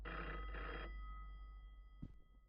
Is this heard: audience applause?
no